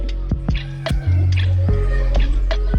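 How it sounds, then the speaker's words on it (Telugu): Onion paste drops into hot oil in a pan, giving a handful of wet, squelching plops and drips in an irregular rhythm over a steady low hum, close up with no voices. "ఇప్పుడు ఆయిల్లో ఈ ఆనియన్ పేస్ట్ వేసి ఫ్రై చేసి మూత పెట్టుకోవాలి"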